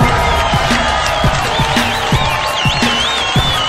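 A crowd cheering and applauding, with scattered clapping and a whistling whoop that rises and falls over a steady wash of noise, heard close and fairly loud.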